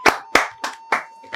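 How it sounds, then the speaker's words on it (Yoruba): A few close, sharp hand claps from a game show studio audience, five distinct slaps at an uneven, slowing rhythm with no talk. "Ẹ pàtẹ́wọ́ fúnra yín"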